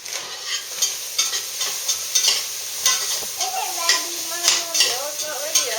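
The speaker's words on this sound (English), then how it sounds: "I'm still sauteing the onions." Onions sauté in a pan with a bright steady sizzle and regular stirring scrapes, while a voice talks briefly over the cooking sounds.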